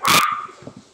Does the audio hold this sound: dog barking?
yes